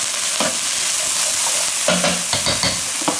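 Chopped green onions and fresh thyme are stirred around in a frying pan, giving a constant sizzle broken by scraping stirs from a utensil, close and loud.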